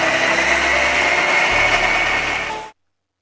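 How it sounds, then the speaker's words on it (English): A kitchen blender whirs steadily and loudly while blending fresh mango, milk and sugar into a shake, running continuously for nearly three seconds before cutting off abruptly. "Now take a blender, add 1 fresh mango, add milk, sugar and make a shake"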